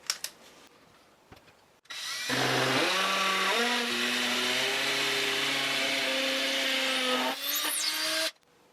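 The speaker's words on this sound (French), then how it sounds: "Et je vais directement faire mon trou dans le béton qui est derrière." A power drill fitted with a masonry bit bores into concrete, with a loud, continuous whine and grind lasting about six seconds whose pitch shifts slightly as the bit bites, then cuts off abruptly.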